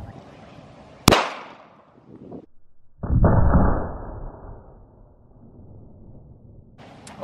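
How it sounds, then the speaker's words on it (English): A Glock 23 in .40 caliber fired into a stack of 2x4 boards outdoors, one sharp loud gunshot crack with a fading echo, followed by a noisy rumbling burst and low background noise. "All right, let's shoot it with the 40."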